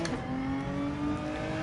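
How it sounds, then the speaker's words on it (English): A Hyundai Genesis engine revs in Gran Turismo 7 with a steady, close, loud hum whose pitch climbs slightly, heard on its own briefly. "whereas the Genesis is probably an actual recorded modern Genesis engine"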